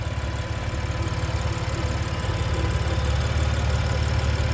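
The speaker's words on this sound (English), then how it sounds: "that engine is running smooth as could be" A 2020 BMW M4 Competition Heritage Edition engine idling smoothly, a steady low rumble heard alone at an even level throughout.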